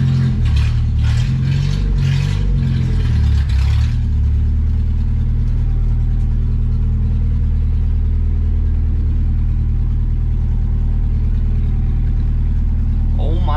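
A 1967 Datsun 520 truck engine with straight headers runs loud and close, with rhythmic revving pulses in the first few seconds that settle into a steady rumble.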